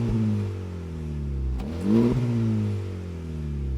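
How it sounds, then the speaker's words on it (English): A Honda Civic Type R in R+ mode idles with a deep exhaust drone, then a short rev rises and falls around the middle, heard from nearby without talk. "here's the exhaust of the Civic Type R in its most aggressive setting"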